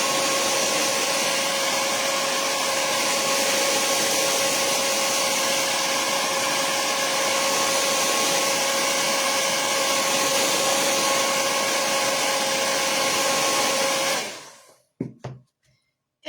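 A hair dryer blows steadily and loudly to dry blue acrylic paint on a craft piece, a constant whirring roar with a faint tonal whine that runs for about fourteen seconds, then cuts off abruptly into near silence with a few small knocks.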